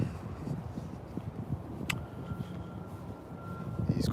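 A steady electronic tone drones in the distance over low traffic rumble, with a brief sharp click partway through, like a vehicle backing up nearby.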